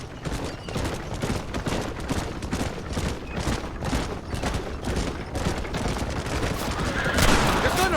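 Dense, continuous gunfire rattles through a Red Dead Redemption shootout, with rapid overlapping shots from several guns that swell slightly louder near the end.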